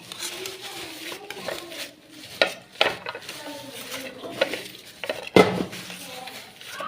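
A knife working on a freshly cooked winter pitha cake in a home kitchen, giving scattered clinks and scraping taps against the pan, mixed with low kitchen murmur.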